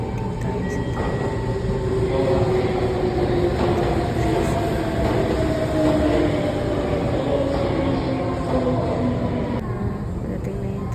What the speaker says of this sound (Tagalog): Padating na yung train ko.